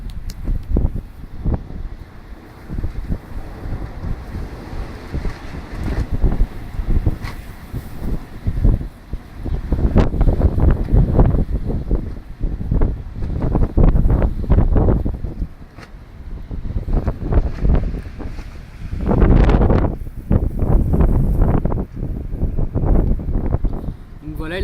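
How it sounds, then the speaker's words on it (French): Strong, near gusts of wind at about 80 km/h during a winter gale in Pernois, France, roaring and buffeting the microphone in surges, with rustling and rattling beneath the rush. "Le vent ne fait que d'augmenter de sa puissance."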